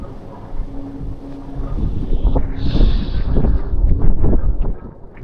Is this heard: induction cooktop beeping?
no